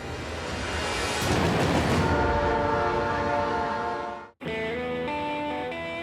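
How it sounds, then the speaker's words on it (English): Train rolling through snowbound woods of northern Ontario near Moosonee, hauling a polar bear trap; a loud, steady rumble with sustained horn-like tones and a brief dropout partway through. "Phil and Jeff pilot their train carrying the polar bear trap over the last frozen river and into Moosonee"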